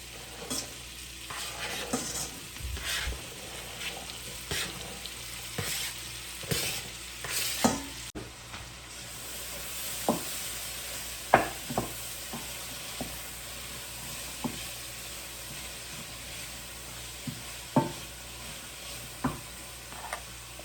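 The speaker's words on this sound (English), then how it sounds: "I'm gonna melt half a stick of butter. And then I will add the onions and the leeks." Onions and leeks frying in half a stick of melted butter in a soup pot, a continuous low sizzle with frequent scraping stirs and light knocks of the spoon throughout.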